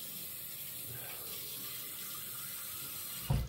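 Tap water running steadily into a sink to heat an aluminum slant razor's blade, a soft continuous hiss heard up close, ending in a brief louder splash.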